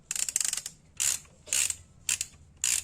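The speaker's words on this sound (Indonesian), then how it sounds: "Lalu kendurkan baut berlawanan arah jarum jam seperti ini." A socket wrench ratchets while loosening a motorcycle's oil drain bolt, giving short bursts of close, crisp clicking that repeat roughly every half second, with no talking.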